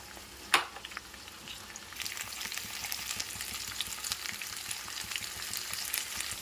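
Capsicum and carrot hit hot oil in a pan for veg fried rice with a sharp clack, then settle into a steady, close crackling sizzle that holds for several seconds.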